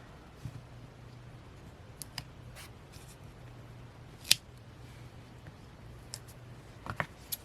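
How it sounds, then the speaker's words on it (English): Scissors cut across journal paper in a few sharp, isolated snips spread over a quiet stretch. One crisp cut stands out clearly, with a couple of fainter clicks near the end. "Now I'm going to cut this the right width as well."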